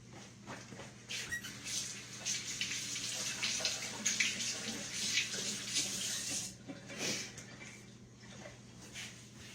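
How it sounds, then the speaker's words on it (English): Steady hiss of a running kitchen tap while hands are washed clean of sticky biscuit dough, with continuous water flow and light splashing over several seconds. "Let me wash up."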